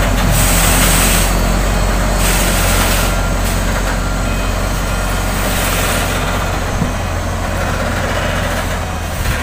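A FAW JH6 460 hp truck reverses to park, its heavy diesel engine droning loud and steady up close while regular reversing beeps pulse over the top throughout.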